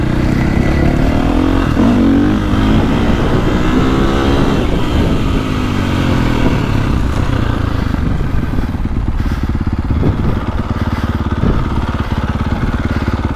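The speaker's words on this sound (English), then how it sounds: "Let's go jump on the CRF." A Honda CRF450R dirt bike engine revs hard and rides continuously, loud and close, with rising and falling throttle through the whole stretch and no talk.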